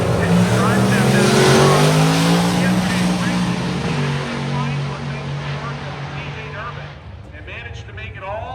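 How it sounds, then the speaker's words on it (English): A 2001 Chevy Blazer drag racing down the track, its loud engine roaring and rising in pitch as it pulls away, then fading toward the end, heard near and continuous. "So Cody Reeves driving the 2001 Blazer left-hand side."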